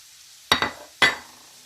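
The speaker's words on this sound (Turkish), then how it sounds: "Ardından biberlerimizi ekliyoruz arkadaşlar." Two sharp sizzling bursts as peppers drop into a hot pan of liver stew, close and crackling, each fading quickly over a quiet background.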